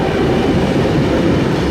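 A Sydney suburban train, sets K61 and K88, rumbles steadily past at close range, a loud continuous roll of wheels and carriages with no pauses or voices.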